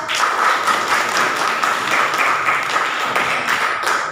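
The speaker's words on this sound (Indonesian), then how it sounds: "Tepuk tangan untuk Farida." Classmates clap for a student in a school physics lesson, a dense, even patter of many hands that keeps going steadily for several seconds without speech.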